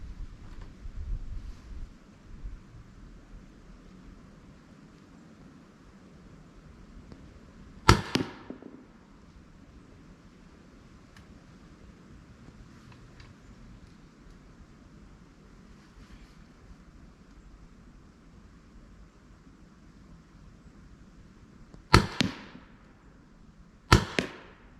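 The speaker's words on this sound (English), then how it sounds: "This is Canada Riot balls going shooting at the target beside that." PepperBall VKS launcher firing Canada Riot balls at a target outdoors, three sharp loud shots with a brief gap then two close together, over a quiet windy background.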